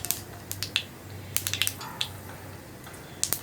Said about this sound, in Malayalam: അപ്പോൾ നമ്മുടെ കടുക് പൊട്ടി കഴിയാറായിട്ടുണ്ട്